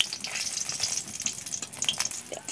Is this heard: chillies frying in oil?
yes